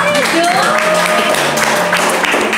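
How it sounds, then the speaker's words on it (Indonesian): A studio audience claps for a magician, a short burst of moderate applause under overlapping talk and a sustained tonal sound. "Coba tepuk tangan dong"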